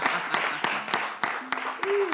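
A live crowd keeps up steady clapping at an outdoor event while someone walks over, with a voice briefly rising above the applause near the end.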